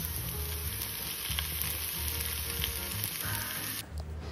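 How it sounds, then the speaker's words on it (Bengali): Soybean, onion and chili filling for soya paratha fries with a steady close sizzle in a pan, with light stirring scrapes throughout and the sound dropping away near the end. "এবার এর মধ্যে সামান্য নুন দিয়ে হালকা নাড়াচাড়া করে নামিয়ে নেব।"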